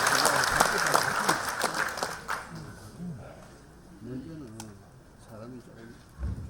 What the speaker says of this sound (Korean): 큰 박수를 맞이해 주시기 바랍니다.